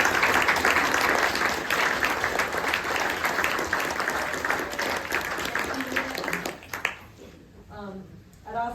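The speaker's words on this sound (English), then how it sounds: "I'd like to give y'all another round of applause" Sustained applause from a room full of people at a turtle patrol end-of-year dinner, steady and loud for several seconds before fading as a voice resumes.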